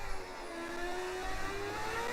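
The high, continuous whine of a Formula 1 car engine in a Brazilian Grand Prix racing game holds steady and sustained, rising slightly in pitch over a brief stretch.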